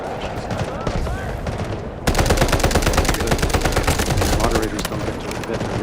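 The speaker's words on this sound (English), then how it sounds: "Artillery barrage incoming." Rapid, relentless weapons fire in a video game artillery barrage with guided missiles, a loud continuous stream of machine-gun-like bursts that intensifies sharply partway through, with faint voice underneath.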